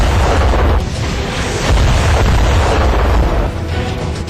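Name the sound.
explosions from Iraqi air force strike on convoy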